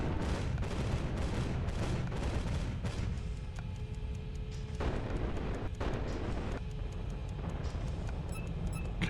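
Sustained barrage of gunfire and artillery-like blasts from the strategy video game Capital Command, dense and loud throughout with rapid overlapping shots, no voices.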